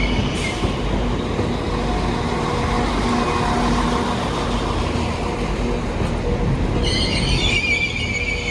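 A train rumbles loudly alongside a station platform, with steady mechanical noise and a burst of high-pitched wheel squeal near the end.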